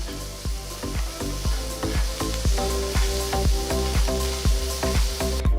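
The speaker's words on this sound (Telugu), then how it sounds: "చిన్నగా తరిగిన ఒక మీడియం సైజ్ ఉల్లిపాయ వేసి ఒక నిమిషం పాటు వేయించాలి" Chopped ginger, green chilies and onion fry in a pan with a steady close sizzle, punctuated by a regular series of sharp stirring knocks against the pan throughout.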